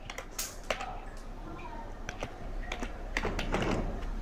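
Computer keyboard typing during a Bangla-language tutorial, a sparse run of quiet clicks and taps with irregular spacing, fairly close and soft, with a faint low room hum underneath.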